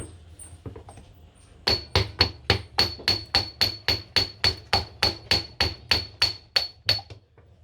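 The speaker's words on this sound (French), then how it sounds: "Et le marteau, vous mettez quelques coups sur les côtés" A rapid, steady series of sharp metallic hammer strikes on a VW Golf 4 axle, about a dozen blows in quick rhythm, close and loud.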